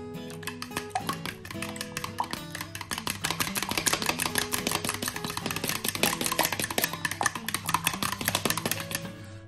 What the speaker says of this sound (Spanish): Y ahora con un tenedor lo batimos bien.